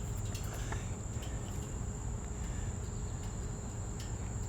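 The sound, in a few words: weird Tennessee bug, likely cricket-like chirping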